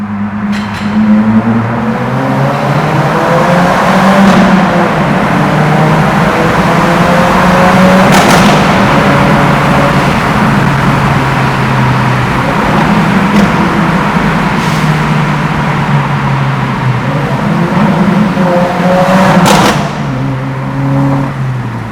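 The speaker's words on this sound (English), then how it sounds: "hear what this exhaust sounds like through the tunnel." A 2024 Subaru WRX engine with an axle-back exhaust drones loudly and steadily in an echoing tunnel, with a few sharp exhaust pops and bangs standing out over the rumble.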